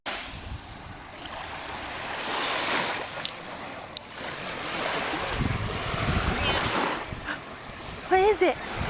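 Ocean waves at the beach wash in and out with a broad, rushing surf and gusts of wind buffeting the microphone; a voice speaks briefly near the end.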